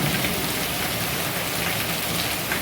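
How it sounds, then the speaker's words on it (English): Heavy rain pours down steadily outside a house, a dense, continuous hiss of drops drumming on surfaces, loud and close with no break. "I just wanted to film some of this rain. It's just pouring down right now."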